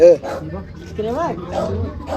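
A dog yips and whimpers in short, high, rising cries, fairly close, with a voice talking over it.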